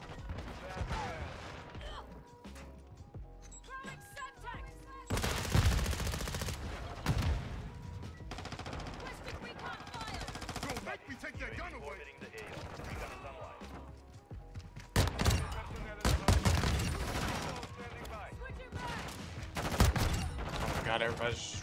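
Rapid bursts of BAS P rifle fire from the shooter game MW2, loud and close, coming in several separate volleys with short pauses between, mixed with in-game clatter and effects.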